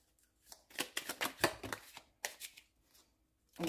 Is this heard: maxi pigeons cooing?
no